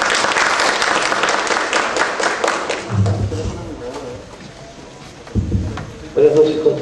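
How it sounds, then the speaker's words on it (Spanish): A lecture audience applauds loudly for a tax-law speaker, a dense wash of clapping for about three seconds that then thins into scattered claps, shuffling and murmuring voices. "Por favor, un fuerte aplauso para el doctor Mario Álvarez."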